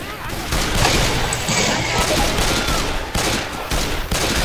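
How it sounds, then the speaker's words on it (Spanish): Continuous loud gunfire in a zombie shooter game, dense rapid shots layered over one another with brief dips, close and busy, with voices mixed in beneath the firing. "Creo que te he disparado como 20 veces."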